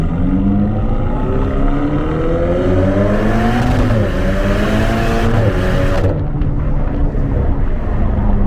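A Ferrari Portofino with a 591-horsepower engine accelerates on the road, its loud engine note climbing steadily through the gears with rising pitch, then easing off near the end.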